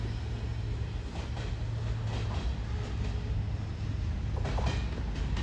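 A long mixed manifest freight train with 85-foot boxcars rolling past, a steady loud rumble with faint clicking of wheels over rail joints.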